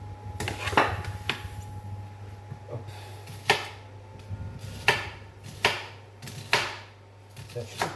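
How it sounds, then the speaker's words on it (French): A knife chops onions on a cutting board in a home kitchen while cooking cabbage with sausages, sharp irregular thuds spaced a second or so apart, close and clear over a steady low hum, with someone talking between cuts. "je coupe mes oignons"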